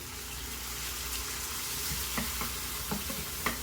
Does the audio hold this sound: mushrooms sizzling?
yes